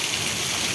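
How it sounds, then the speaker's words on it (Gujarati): Heavy rain pours steadily at night in a village in Ranpur taluka, Botad district, Gujarat, a dense continuous hiss of drops close by with no voices. "અતિ ભયાનક વરસાદ પડી રહ્યો છે"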